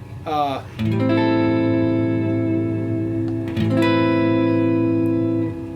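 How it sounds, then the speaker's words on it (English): Stratocaster with TV Jones Classic pickups played on the neck pickup, chords ringing out long and sustained with a washy reverb and trailing delay, the second chord struck after a brief pause. "so that's the neck pickup"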